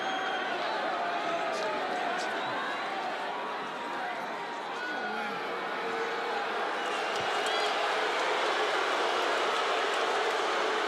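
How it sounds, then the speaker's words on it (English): A UFC fight crowd boos, a broad, steady roar of disapproval from a packed arena that holds at a constant level while commentators talk over it. "Well, the crowd doesn't like it"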